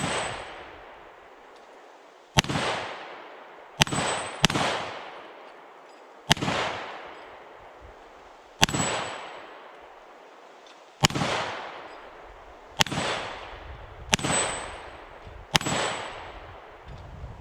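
A Foxtrot Mike FMP-9 9mm side-charger fires single shots at steel spinner targets from about seven yards: ten sharp cracks spaced irregularly, each followed by a ringing metallic clang and a short decaying echo, with no talk.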